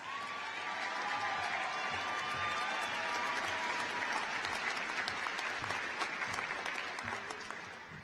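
Sustained audience applause fills a high school graduation ceremony, a dense steady wash of many hands clapping throughout, with a faint tone drifting over the top early on.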